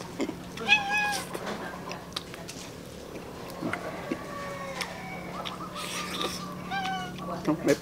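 A cat meows repeatedly at close range, several drawn-out calls spread across the stretch, with faint chirping and household background noise behind it.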